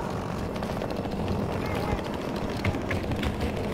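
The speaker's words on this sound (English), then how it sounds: "That's a helicopter." Helicopter rotor and engine noise from the Battlefield 2042 video game, a steady loud drone under continuous gunfire, explosions and a player talking over it throughout.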